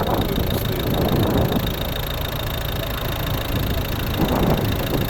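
A 2012 Volvo V50 R-Design with a 1.6 D2 diesel engine idles close by with a steady clattering hum, the level holding constant throughout.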